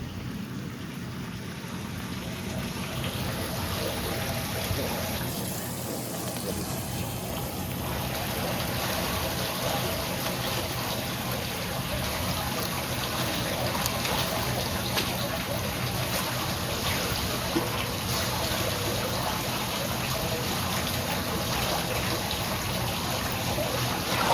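Floodwater from a five-inch street flood trickles and pours steadily into a storm drain, a continuous close wash of running water with faint talk in the background.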